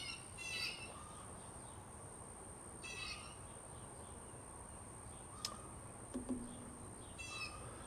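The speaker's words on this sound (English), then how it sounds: "I am thinking it might be some sort of bird" An unidentified bird calls in short repeated bursts a few seconds apart, fairly faint and distant, with a couple of sharp clicks and a steady high whine in the quiet background.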